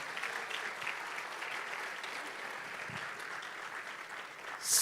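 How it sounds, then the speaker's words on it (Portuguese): Church congregation applause during a sermon, a soft, steady wash of many hands clapping at a distance, with a brief louder burst at the very end. "Quem pode aplaudir a Jesus por isso?"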